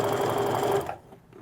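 A sewing machine stitches down offset quilt strips in a fast steady whir, loud and close, then cuts off abruptly near the end, leaving a quiet room.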